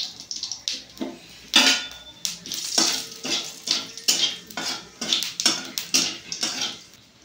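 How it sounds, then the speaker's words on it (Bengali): Cumin seeds and dried chili tempering in white oil, bursts of crackling sizzle broken by repeated metal clatter of a spoon against the pan, close and lively, no speech. "এটা সাদা তেলি করে দিয়ে দেবো জিরে ফোড়ন, দিয়ে দেবো শুকনো লঙ্কাটা"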